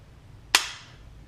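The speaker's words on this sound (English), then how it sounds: "And then we'll pull the trigger." A single sharp, close snap as a high performance trigger is released and breaks against the sear, ringing briefly before fading into a quiet room.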